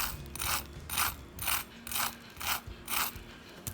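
Crisp crunching of a fried chicken cutlet with a crispy coating, six or seven sharp, evenly spaced crackly bites or presses, close and fairly quiet with no talking.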